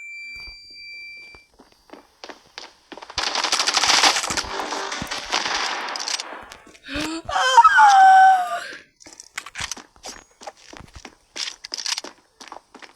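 Uzi fire in the mobile shooter Standoff 2: a few sharp single shots, then a dense automatic burst lasting a few seconds, followed by a wailing tone and scattered clicks and footsteps, with no speech.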